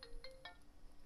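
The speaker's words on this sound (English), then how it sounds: "that's my phone." Phone ringtone chimes faintly a few times in quick succession, brief tonal notes in an otherwise quiet room.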